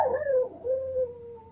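A puppy howls in a single drawn-out, wavering cry that dips briefly and then continues, close and fairly clear, with no talking over it.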